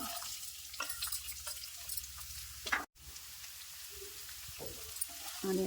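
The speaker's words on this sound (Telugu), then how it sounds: "ఆనియన్స్ ఫ్రై అయ్యే విధంగా వేయించుకోవాలండి" Onions frying in a pan while cooking an old-style brinjal chutney, giving a steady low sizzle with occasional crackles and light stirring under quiet talk.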